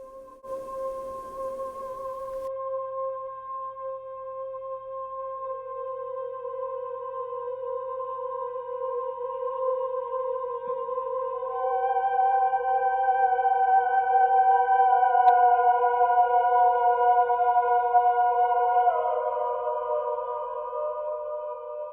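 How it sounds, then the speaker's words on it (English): Eerie, ghostly choir-like voices hold long, layered notes that slowly shift and swell, smooth and sustained with no breaks. "you can hear a ghostly choir singing, and it probably sounds a bit like this"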